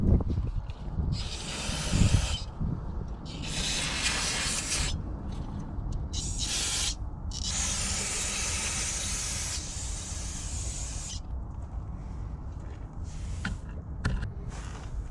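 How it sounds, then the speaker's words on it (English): Brake cleaner sprayed onto the rear brakes of a 2018-2021 Toyota Camry SE: long, loud hissing aerosol bursts up close, several extended sprays separated by short gaps. "Clean with the brake cleaner."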